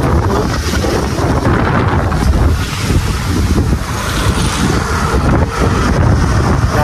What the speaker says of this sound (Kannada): ಗಾಳಿ ಭಾಳ ಓಡಾತೈತ್ರಿ